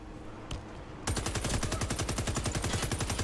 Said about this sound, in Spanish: ¿Dónde carajo está el que me está disparando?